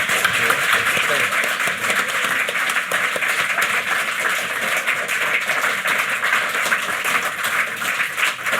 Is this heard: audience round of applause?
yes